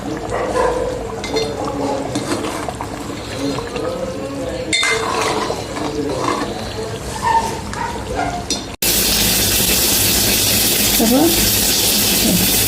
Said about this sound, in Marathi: बघा भाजीला छान उकळ आली आहे